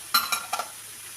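Cooked lentils going into a pan and being stirred for a sweet kolukattai filling, a few quick scraping and clinking strokes close by, then a faint sizzle fading out.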